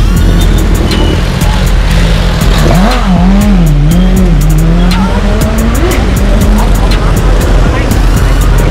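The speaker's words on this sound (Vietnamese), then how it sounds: "Sẽ chạy thử test drive xe BMW nha các bạn." A BMW car on a test drive roars loud and close, its engine pitch wavering up and down through gear changes over constant road noise.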